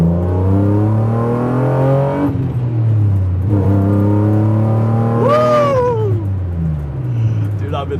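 BMW E36 M3 fitted with a Bimmerworld race exhaust, loud and close, engine note climbing steadily through the gears with rising harmonic sweeps and brief lifts between shifts.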